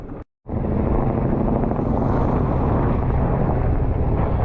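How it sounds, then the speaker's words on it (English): A steady, loud aircraft roar rumbles continuously overhead after a brief gap at the start, blended with heavy wind buffeting on the microphone, on the English coast near a lighthouse. "Lots of air traffic."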